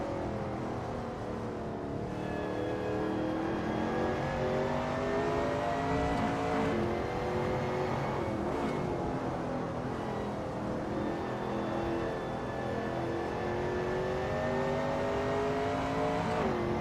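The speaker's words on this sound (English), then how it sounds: "Narwhal is expertly commanding that car through Starkey Strait" A Shelby Cobra 351 race car in a racing video game roars around Donington Park, its engine loud and continuous as it revs up and down through gear changes, with no voices.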